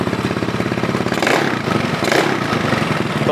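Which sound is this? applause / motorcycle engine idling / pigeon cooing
motorcycle engine idling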